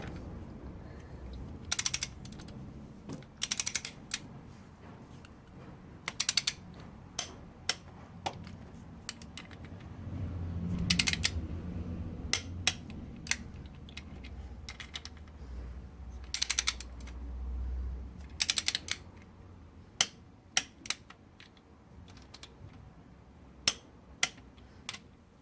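Torque wrench clicking as timing chain bolts are tightened on a 2.8L engine of a 2006 Cadillac CTS, sharp ratchet clicks and snaps at irregular intervals over low mechanical rumble, close and fairly quiet.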